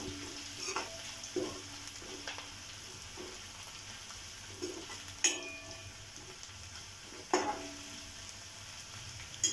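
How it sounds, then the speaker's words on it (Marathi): Ginger and garlic sauté in hot oil in a pan for hotel-style dal tadka, a quiet steady sizzle with occasional sharp stirring clinks of a utensil against the pan. "आलं लसूण गुलाबी रंग येईपर्यंत आपल्याला परतायचं आहे"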